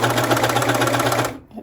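Singer ProFinish serger chaining thread with no fabric, a loud, rapid, buzzing mechanical stitch hum that runs steadily before cutting off abruptly near the end.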